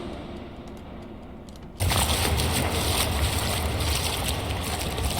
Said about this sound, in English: Same goes for the water sound here.